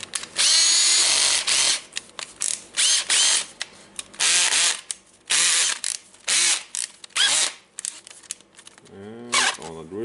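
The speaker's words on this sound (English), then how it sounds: "And on the drilling mode." A Makita DDF456 cordless drill whirs in drilling mode in repeated bursts, trigger pulled and released several times, with brief pauses and faint handling noise between runs.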